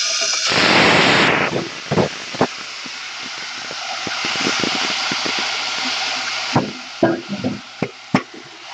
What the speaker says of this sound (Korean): 느타리 버섯 재워놨던 거를 살짝 볶아보겠습니다.